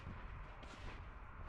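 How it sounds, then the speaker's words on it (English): Rapid cannon fire from Wild Rift, played as Senna, comes through as quick, faint shots in a short burst, quiet and somewhat muffled under busy game noise. "Kind of rapid fire cannon as well."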